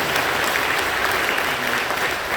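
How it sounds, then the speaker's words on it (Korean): A large church congregation claps steadily indoors, a dense, even wash of applause that holds at full strength throughout. "환영합니다. 박수해 주시죠."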